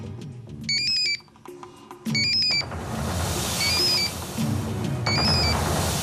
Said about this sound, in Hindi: मैडम, जैकॉल को फोन